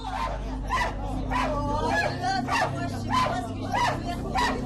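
An agitated dog barks and yelps repeatedly during a street confrontation between young men and French police in Colombes, with crowd voices and commotion underneath.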